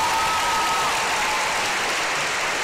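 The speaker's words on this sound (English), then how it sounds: "Can we give her a huge round of applause, please?" Audience applause for a solo singer at a school house song competition, a dense, steady wash of clapping from a large crowd filling the whole stretch without talk.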